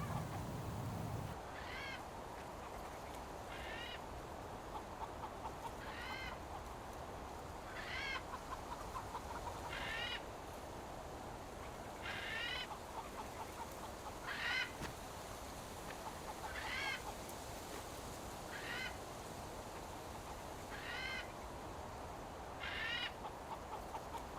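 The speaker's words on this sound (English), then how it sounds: "I'd never get to sleep with the incessant squawking of that hawk outside my window" A hawk squawks outside a window in a survival game, a steady series of repeated calls roughly every two seconds, moderately loud over a constant background hum.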